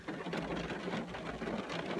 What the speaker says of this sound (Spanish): ¿escucháis? Está lloviendo muchísimo.